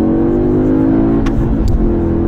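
A 2024 Audi S3 Sportback engine, 333 hp, revs hard and steadily in manual mode, holding a loud high-rpm drone close by, bouncing against the limiter.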